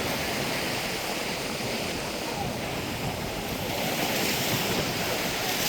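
Heavy sea surf pounds a coconut-lined shore where the sea is eroding the coast and breaking over dumped boulders, a loud, unbroken roar of crashing waves with wind rush, steady throughout with no voices.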